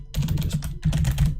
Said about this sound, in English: Literally, I am typing I agree.